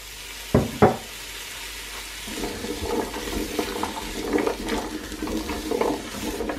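Vegetables sizzle and hiss in melted butter and olive oil inside a Ninja Foodi Max multi cooker, with a couple of sharp knocks early on, then a steady, crackling fry close by.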